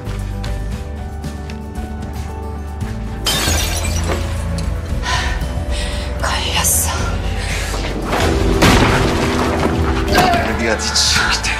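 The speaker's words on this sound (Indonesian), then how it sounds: "tiba-tiba terjadi ledakan dahsyat dari ruang di mana Gio berada" A sudden loud shattering blast from an underground lab explosion in a film erupts after a quiet, tense stretch, followed by crashing debris and rumbling, with a second surge of impacts near the end.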